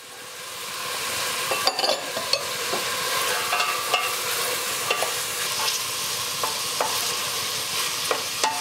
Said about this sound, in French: Ensuite, on y ajoute les carottes.